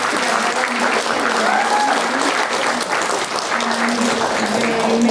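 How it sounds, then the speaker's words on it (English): An audience claps steadily for the women who organised an event, a sustained even wash of applause with faint voices and a low tonal hum mixed underneath. "have you guys give wonderful ladies a round of applause"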